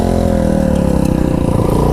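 Suzuki DRZ and Honda Grom motorcycles climbing a hill produce a loud, continuous engine drone, revving steadily and close by throughout.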